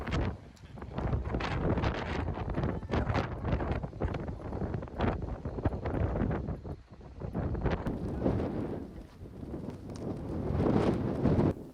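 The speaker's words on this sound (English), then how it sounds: "it gets very windy." Strong wind roars and buffets steadily at a glacial lake in Patagonia, loud and continuous with rough gusting pressure and no voices.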